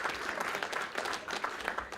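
Brief audience applause breaks out during a speech at a regional climate finance opening event, a dense, even patter of many hands that holds steady and close throughout.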